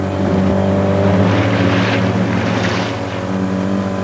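A motorboat engine drones steadily and loudly with strong harmonic tones, holding high throttle as the hull rushes across the water.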